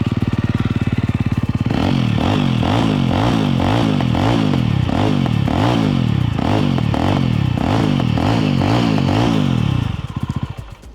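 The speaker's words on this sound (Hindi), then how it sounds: "एंड एग्जॉस्ट नोट जो है वो भी इसका बदल गया है। Let's hear that." A 2024 Jawa 350 motorcycle's twin exhausts give a loud, bassy engine note close by: a steady idle, then a run of rhythmic throttle blips and revs that ends in a short settling rumble.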